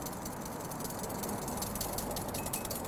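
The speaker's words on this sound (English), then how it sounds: "the key here is to just keep whisking the whole time" A whisk scrapes steadily and quickly against a bowl as table oil is added drop by drop and beaten into an emulsion for a salmon burger sauce, giving a continuous close rasping rattle.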